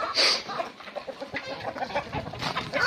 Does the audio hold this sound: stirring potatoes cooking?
no